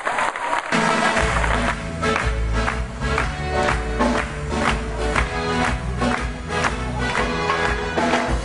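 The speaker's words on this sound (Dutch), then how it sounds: "En ik wil aan jullie vragen of jullie een heel hard applaus willen geven voor Ellie en Rieke." A loud, sustained ovation from a theatre audience at a show in Elburg, dense clapping with crowd noise that begins abruptly after a brief pause and continues steadily throughout.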